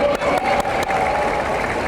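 Crowd applause and cheering at an outdoor peace day rally honoring a sponsoring Rotary Club, a dense continuous roar of clapping with a few sharp claps standing out.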